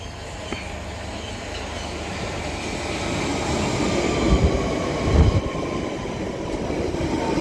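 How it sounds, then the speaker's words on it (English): A London Underground Central Line 1992 stock train arrives at South Ruislip, its rumble building steadily over several seconds with low wheel thumps and faint squealing, close and fairly loud with no talk. "we've got a 1992 stock for London Underground Central Line arriving in"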